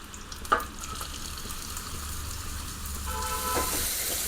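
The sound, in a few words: mustard seeds spluttering, onions and garlic frying in oil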